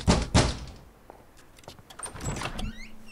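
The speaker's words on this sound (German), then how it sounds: "dann wollen wir mal klopfen." Knocks land on an apartment door in the video game L.A. Noire, two loud, close thumps at the start, followed by softer thuds, faint clicks and a rising mechanical rustle, with no speech.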